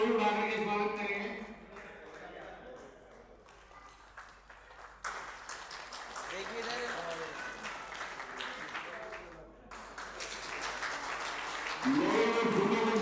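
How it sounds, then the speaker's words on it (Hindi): Audience applause welcoming guests at a retirement ceremony, a sustained crowd clapping that swells and fades across the stretch with a voice speaking over it at times. "तालियों के साथ स्वागत करें।"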